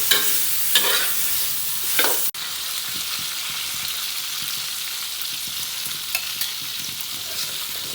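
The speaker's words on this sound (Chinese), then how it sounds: "锅烧热了，把腊肉放下去。 逼它的油，把油逼走。" Fatty cured pork sizzles in a hot wok with no added oil as its fat renders, producing a steady crackling hiss broken by brief scraping stirs near the start and later on.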